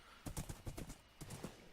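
Blocky Minecraft horse hooves clop in quick bursts of several steps, a short pause, then a few more, fairly quiet and close with no voices.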